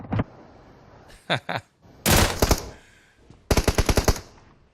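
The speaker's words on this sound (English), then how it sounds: "Yusuf with the MG3 out here, putting in some work" MG3 machine gun fire in the PUBG Mobile game plays in loud, close bursts: a short volley, a couple of quick shots, then two longer rattling strings of rapid rounds separated by brief gaps.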